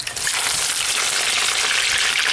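Battered fish goujons fry in hot oil during a first light fry, giving a continuous bright sizzle and crackle that stays close and steady, with no talking.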